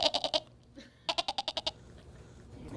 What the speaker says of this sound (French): Oh, un beau mouton.